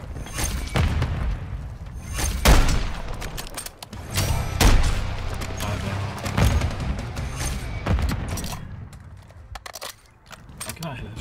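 Gunfire in the video game Call of Duty MW3, repeated bursts of shots and booming impacts across the clip, loud and close, with players talking over the action.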